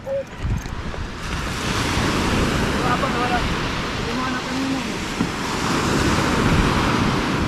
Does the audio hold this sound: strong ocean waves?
yes